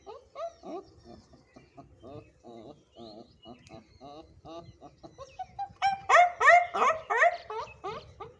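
A man imitates a small puppy with a string of short yelps and whimpers that grows louder and more excited toward the end, sounding close and alone with no other noise.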